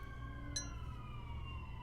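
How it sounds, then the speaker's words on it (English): A fire department siren wails faintly nearby, its steady rising and falling tones drifting briefly over a low background rumble. "Whenever we have a siren, because we're next to a fire department, we send love and protection"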